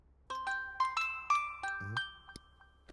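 A phone rings with a short melodic ringtone of bright chiming notes in a quick rising and falling pattern, quiet and clear in a Telugu comedy film scene.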